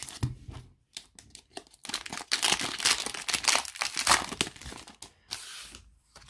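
Pokémon TCG booster pack wrappers being torn open, with close, loud bursts of crinkling and ripping foil that come in short irregular runs separated by brief quiet gaps.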